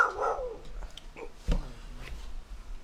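Dogs bark in a few sharp, separated bursts at moderate distance, with a whimper among them, in an otherwise quiet room.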